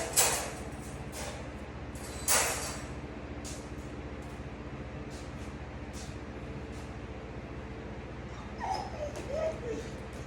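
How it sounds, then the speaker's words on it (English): A dog whines and whimpers softly in short, intermittent high-pitched bursts over a low background hum. "He's just whining because he wants to get released"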